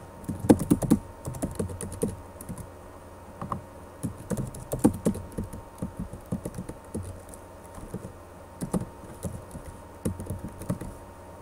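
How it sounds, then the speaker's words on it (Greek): Personal details being typed on a computer keyboard: steady, uneven bursts of close key clicks and taps with brief pauses, continuing throughout with no voices. "Πληκτρολογώ τα στοιχεία μου."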